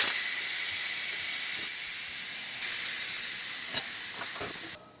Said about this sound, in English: That's a lot of steam.